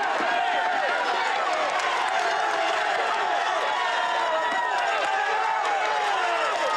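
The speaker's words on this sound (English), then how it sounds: "This crowd is amazing." A dense roadside crowd on a Tour de France mountain climb, roaring and cheering continuously in a broad, steady wash of noise, with a commentator speaking over it.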